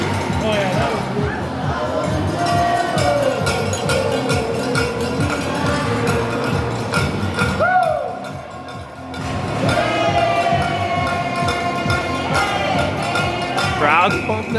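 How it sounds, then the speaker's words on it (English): A crowd at a U19 ringette game in a rink keeps up a steady roar and cheering for the whole stretch, with whistles and scattered shouts, while a commentator talks over it. "Crowd's pumped now"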